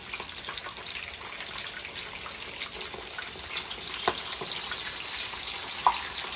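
A whole red snapper sizzles in hot oil, a steady soft crackle and hiss from the frying, with an occasional small pop and no talking.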